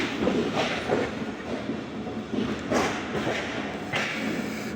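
Rehman Baba 48Dn passenger train rolling along the rails in smog, a continuous onboard rumble with regular clickety-clack beats from the wheels, steady and moderately loud throughout.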